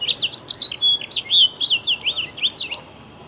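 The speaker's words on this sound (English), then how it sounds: "Another common backyard bird is the house finch." A house finch sings nearby, a loud, quick run of sweet warbling notes with a slight burr, ending after about three seconds in quiet backyard air.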